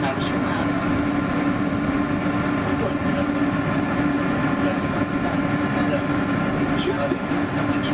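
A Disney park railroad train rolls steadily along with a continuous rumbling, rattling drone, while an amplified narration voice talks over it.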